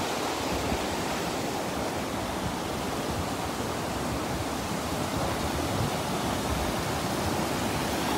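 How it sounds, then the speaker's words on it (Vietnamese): Datanla waterfall in Da Lat, in a forest, pours over rocks in a loud, continuous rushing roar that stays steady throughout, with no voices. "Dòng thác này nó chảy trên đá"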